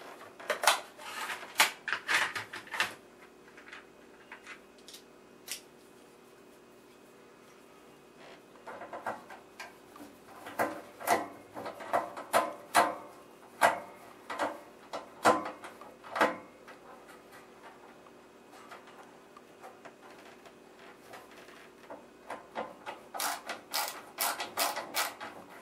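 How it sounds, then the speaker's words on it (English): A Phillips screw is worked out of a vintage Zenith radio, giving clusters of close, sharp ticking and scraping clicks in uneven bursts, with quieter pauses between them. "there's one Phillips screw here, which I assume is holding a speaker on. It's gotta come out."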